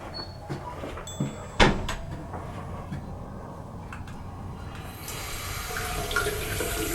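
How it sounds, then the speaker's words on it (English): A faucet is opened in a house under paranormal investigation and left running for several seconds; a few cupboard-like knocks and clunks come first, then a steady wash of running water rises toward the end, moderately close. "That was obviously running water."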